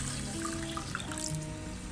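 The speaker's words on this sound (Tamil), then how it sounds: "இப்போ நம்ம தண்ணி போட்டு ஊற வச்சிடலாம்." Water runs and splashes into a cooking vessel of red rice to soak it, a close, steady pouring and trickling sound with small gurgles, heard alone.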